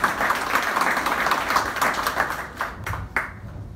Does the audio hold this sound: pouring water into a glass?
no